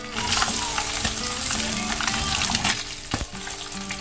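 Tilapia fish frying in hot cooking oil, a dense continuous sizzle and crackle with occasional stirring scrapes, close and loud throughout.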